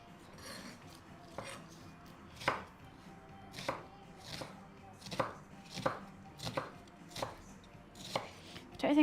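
Onions being chopped on a cutting board for a home-cooked South African bunny chow, with a steady run of sharp, distinct knife strikes close by and no talking.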